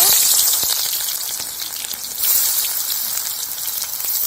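Finely chopped onions hit hot white oil in a wok, making a loud, dense, hissing sizzle that holds steady throughout with a slight surge partway in.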